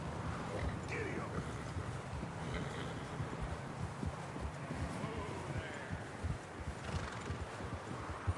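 Horse hooves clip-clopping at a steady pace while riding in the video game Red Dead Redemption, with wind noise around and a snort or whinny now and then, fairly faint and continuous.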